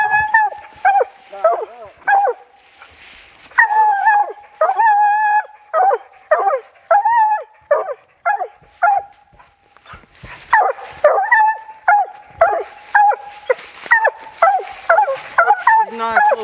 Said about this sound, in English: She's a nice little tree dog, ain't she?